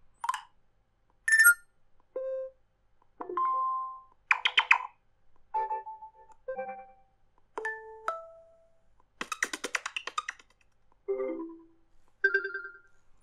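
A ROG Phone 2 running Lineage OS plays its built-in notification sounds one after another: about a dozen short, distinct chimes, beeps and melodic blips, each separated by silence and moderately loud.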